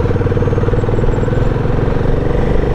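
A 2024 Royal Enfield Himalayan 450 motorcycle pulling up a climb, a loud, close engine with a steady, fast thumping exhaust pulse throughout, no speech.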